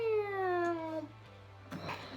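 A voice imitates a cat's meow for a phone sound, giving a single drawn-out, falling meow close to the mic, followed by a short breathy noise.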